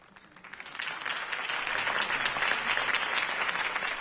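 Crowd applause follows Harvey Dent's campaign speech in the Batman Telltale video game, swelling quickly from quiet into a thick, sustained wave of clapping from a large gathering.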